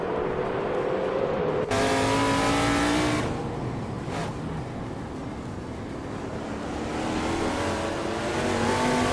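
1970 NASCAR stock cars race around Brands Hatch GP in a racing video game, with several engines roaring and rising in pitch as they accelerate, a loud continuous near drone with passing whooshes and no talk.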